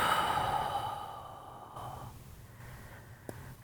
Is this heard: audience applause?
no